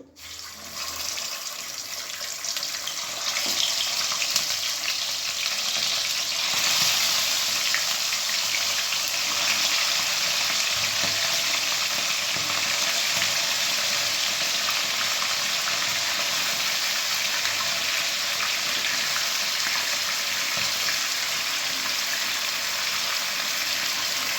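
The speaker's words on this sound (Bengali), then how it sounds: "ফোড়নটা হয়ে গেছে, এবার আমি দিয়ে দেবো মাংস" Country chicken meat hitting hot oil with tempered spices, a loud continuous hiss and crackle of frying that starts abruptly and stays steady and close throughout.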